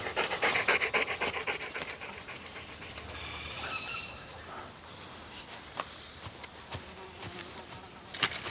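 Dogs panting close by, a quick, breathy rhythm that is loudest at first and then fades, with insects buzzing faintly in the background.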